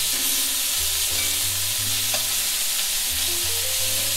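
Lamb loin chops sizzle steadily in a hot pan just after being flipped, a constant close-up crackling hiss with a low hum underneath and no talking.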